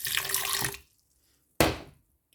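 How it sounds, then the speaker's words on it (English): Water pours into a Nutri Ninja smoothie maker in two short splashing bursts, the first longer and trickling, the second a sudden brief gush, close and clear with quiet between. "And then I am gonna add a little bit of water"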